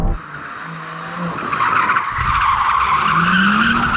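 A BMW M4 Competition spins its tyres in second gear, a loud, sustained tyre squeal that builds and holds for several seconds over a low engine growl, heard close with no talking.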